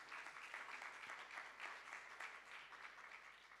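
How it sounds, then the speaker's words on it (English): Faint, steady applause from a dinner audience at a gala banquet, a continuous wash of many hands clapping heard from a distance, with no speech over it. "let's give them that round of applause"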